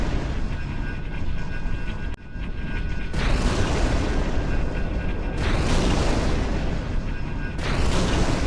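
Heavy booming explosions from a Wraith tank in Halo 2 roll out in loud broadband blasts, one around two seconds and bigger surges later, with rumbling debris between them.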